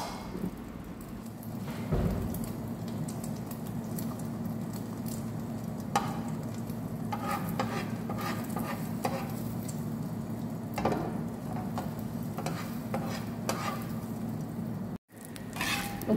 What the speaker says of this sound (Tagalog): ug karon ako lang ibutang ang scrambled egg sa mainit na mantika.